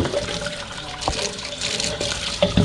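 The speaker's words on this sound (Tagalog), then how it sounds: "So dito kami ngayon sa hugasan ni Sister Mary." Running water splashes steadily at an outdoor washing area, a continuous broadband rush with a few brief knocks and clatters rising above it.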